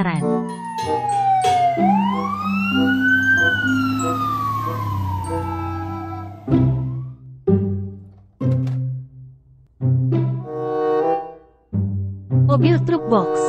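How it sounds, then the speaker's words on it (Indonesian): A toy fire engine truck sounds its siren in a rising and falling wail, then gives off a series of short electronic bursts and tones, loud and close, with a voice speaking between them. "Mobil truk pemadam kebakaran."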